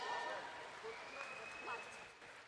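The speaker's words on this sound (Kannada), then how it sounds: "ಬರಲಿ ಜೋರು ಚಪ್ಪಾಳೆ." An audience at a golden jubilee ceremony applauds in a faint, distant patter of clapping, partly masked by a speaking voice over a public address system.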